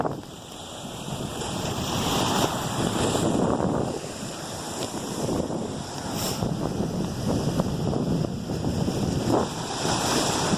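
Ocean surf breaks and rolls steadily onto a beach at Bird Island, with strong wind buffeting the microphone in a continuous, roaring wash that swells and eases without pause.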